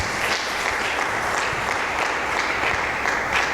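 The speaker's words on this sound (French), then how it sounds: "Est-ce que tu peux encore acclamer pour Jésus?" A church congregation applauding and cheering for Jesus, a dense, loud, steady roar of many hands clapping with no break.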